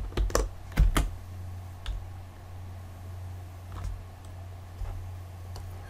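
Typing on a computer keyboard at a desk, a few close, quiet clicks in a quick cluster at the start, then sparse single keystrokes over a low steady hum.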